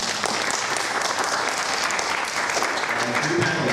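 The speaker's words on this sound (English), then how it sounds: "A round of applause, please." Steady applause from a conference audience introducing a startup panel, a continuous wash of many hands clapping at moderate loudness without pause.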